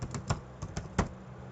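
Sharp individual clicks of computer keyboard keys as code is typed, about seven irregular taps over a second and a half, close and fairly crisp, with no talking.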